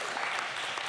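Audience applause at a gathering honoring a prison-run music label artist, a brief dense burst of steady clapping under a second long, fairly close and even.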